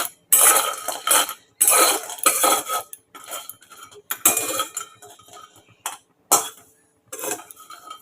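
Lentil dumplings (bori) rattle and clatter in a dry wok as they are tossed, making bursts of clinking and scraping between short pauses.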